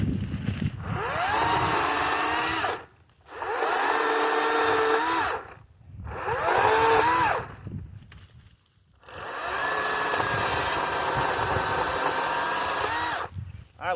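A Kobalt 40V Max battery chainsaw cuts through cedar in loud, sustained bursts of high whine, broken by three short pauses between cuts, with no talk over it.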